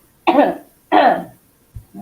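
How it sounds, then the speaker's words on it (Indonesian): Two harsh, close coughs about half a second apart, followed by a faint throat sound, in a quiet room. "Hanya sedang ada gangguan sedikit batuk pilek."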